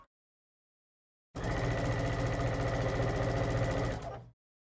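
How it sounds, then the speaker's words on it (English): Sewing machine stitching fabric pieces in pairs, a single steady burst of rapid mechanical whirring and needle chatter lasting about three seconds, close and clear, with silence before and after. "I am just sewing these in pairs."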